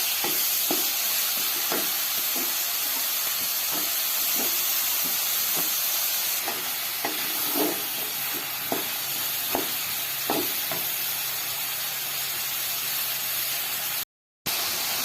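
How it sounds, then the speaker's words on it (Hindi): Potatoes for an eggplant and tamarind curry cook in a pan with a steady, loud sizzle, and light stirring or scraping taps recur every second or so. "तो इसमें हम आलू को 2-3 मिनट के लिए हम पकाएंगे।"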